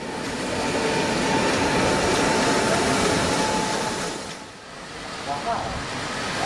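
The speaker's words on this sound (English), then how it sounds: "the train departed Krakow for the Czech Republic" A departing train rumbles loudly and steadily in Krakow, its broad roar dipping briefly near the end before rising again, with faint voices mixed in.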